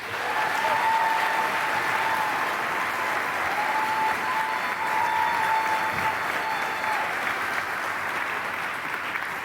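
A commencement audience claps steadily and warmly to welcome the speaker, a dense, even wash of applause from a large crowd lasting several seconds.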